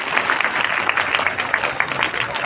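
A school audience at an independence day function bursts into brisk, dense clapping that stays loud and even throughout the short stretch.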